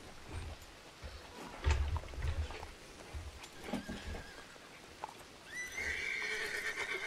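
A horse in the video game Red Dead Redemption II neighs and whinnies amid soft hoof clip-clops and background game sounds, with a longer whinny near the end.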